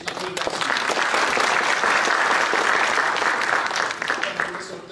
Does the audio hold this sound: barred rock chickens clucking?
no